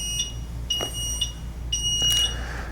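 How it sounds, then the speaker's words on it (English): A Transformer 2 automatic folding mobility scooter emits repeated high-pitched warning beeps while in neutral mode, roughly one every second or so, clear and fairly close over a low background hum. "It's beeping."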